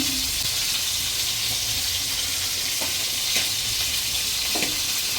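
Oil sizzles in a hot kadai (wok) on the stove, a steady close hiss throughout with a few faint clinks, no voices.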